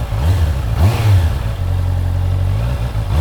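A motorcycle engine idles, then gets a quick throttle blip for a smooth downshift, the revs rising briefly before settling back to a steady, close, loud idle.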